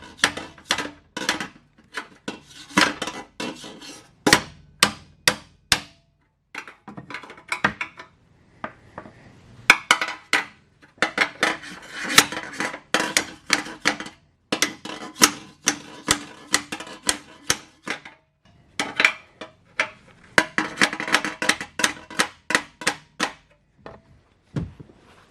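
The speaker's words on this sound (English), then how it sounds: "Actually, I got a block of aluminum and a hammer." A hammer strikes a block of aluminum set against an exhaust tip on a BMW F80 M3, a long run of sharp metallic knocks in quick bursts with short pauses, close and loud.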